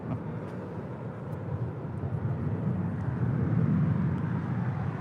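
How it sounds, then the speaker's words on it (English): Air France Airbus A350-900 on Flight 70 from Paris landing on runway 25 left at LAX, a steady low jet roar that swells gradually toward the end, distant and continuous with no talk. "Air France Flight 70 coming in from Paris on an A350-900 landing here on 25 left on the south side"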